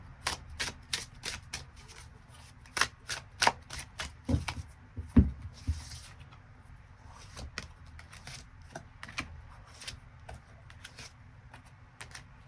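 Tarot cards shuffled and drawn in a quiet room: a series of crisp, dry riffles, snaps and slaps arriving in irregular bursts, close and fairly soft, with no voices.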